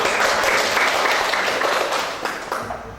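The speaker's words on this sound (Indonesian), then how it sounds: "Tepuk tangan untuk semuanya yuk" Classroom applause for student groups, a dense, steady clapping from many hands close by that holds for a few seconds and then begins to thin out.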